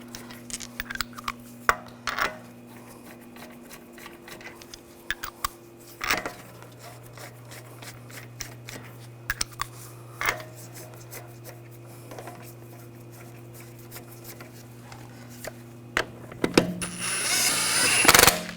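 Brake caliper bolts on a 2007–2013 BMW X5 are worked by hand: scattered metallic clicks and ratchet-like ticks against a steady low hum, with a louder rising rush of noise near the end.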